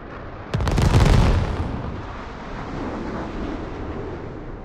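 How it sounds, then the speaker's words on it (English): In the Squad video game, a JH-7A Flying Leopard rocket strike lands, with a sharp crackling burst at about half a second swelling into a heavy booming roar that fades into a lingering rumble, loud and alone. "the PLA commander can call in the JH-7A Flying Leopard Rocket Strike"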